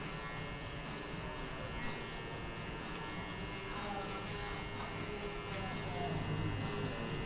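Electric hair clippers with a half-closed guard fade a hard-part taper haircut in a barbershop, giving a steady, soft, continuous buzz that stays faint and even throughout.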